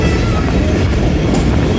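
The Awam Express rushing over a bridge at Gakhar Mandi at high speed from Peshawar, a loud, dense roar of wheels and rumbling carriages, close and continuous with faint clatter and no voices.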